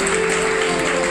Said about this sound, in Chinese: 现场朋友们的掌声。